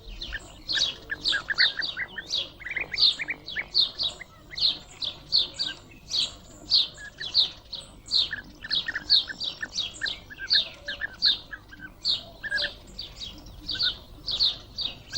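Birds chirp and trill in quick repeated bursts beside an ephemeral pond, a busy, fairly close chorus of bright calls with short gaps between phrases.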